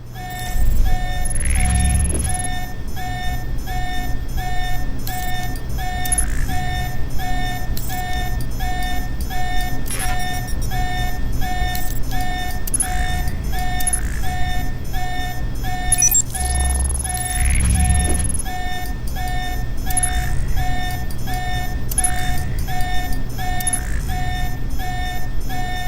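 Electronic alarm in the Alpha Protocol game, a repeating beeping tone pulsing at a steady rhythm, loud and continuous with a low background hum and occasional higher electronic tones over it.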